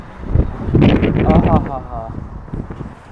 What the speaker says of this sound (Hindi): क्या मस्त हवा चलती है यहाँ पे।